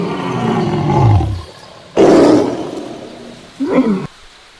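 A fictional giant wind tiger gives deep, loud roars: one long roar, a second forceful one, then a shorter growl, all close and with no speech.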